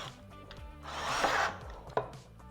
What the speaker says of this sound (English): I'm going to put my screws. I'm using my 30 millimeter screws.